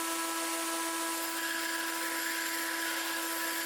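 A belt grinder runs steadily and loudly with a constant high whine as a simple knife-making bevel jig is smoothed on the belt, with no voices.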